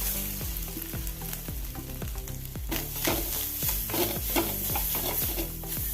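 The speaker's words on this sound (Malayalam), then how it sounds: "1 ടേബിൾ സ്പൂൺ എണ്ണ ഒഴിച്ച് കൊടുത്ത് ഇനി തേങ്ങ വറക്കുക ചെയ്യുന്നത്" Steady sizzling of grated coconut roasting in oil, with repeated scraping strokes of a spoon stirring through it.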